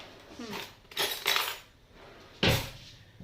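A spoon scooping mushroom and bacon filling from a bowl, with a few close, quiet scrapes and clinks of metal on dish across a short span.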